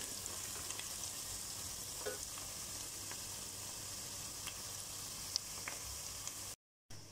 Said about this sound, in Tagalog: Tapos nagigisa na tayo ng dito. Ng sibuyas. Maraming sibuyas.